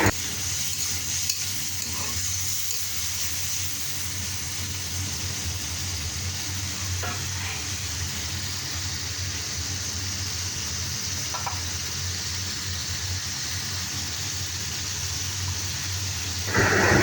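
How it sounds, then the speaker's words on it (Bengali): Spices cook down with salt and turmeric in a pan, giving a steady, even sizzle with a constant low background hum and only a few faint scrapes of stirring over a long stretch. "লবণ, হলুদ দিয়ে মশলাটা একটু ভালোভাবে কষে নিচ্ছি।"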